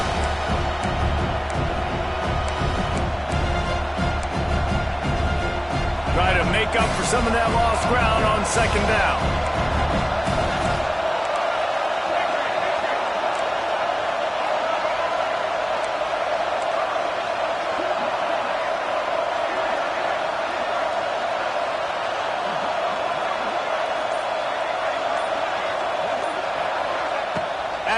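A College Football 26 video game stadium crowd roars loudly for about ten seconds, then drops to a lower murmur while a commentator speaks over it.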